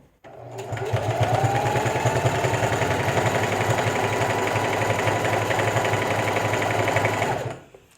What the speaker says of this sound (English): Use your manual dial here on the side of your sewing machine to bring your needle down so that it holds your stitching in place